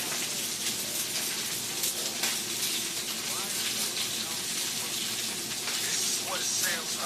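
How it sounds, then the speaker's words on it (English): Steady, dense hiss of steak sizzling in a hot pan, continuous and fairly loud throughout with no talking. "But while your steak is cooking"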